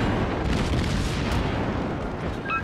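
Naval guns fire during a World of Warships battle as shells are aimed at a Furutaka cruiser rounding an island, making a loud, dense wall of rumbling booms and blasts that rolls on without a break and with no talk.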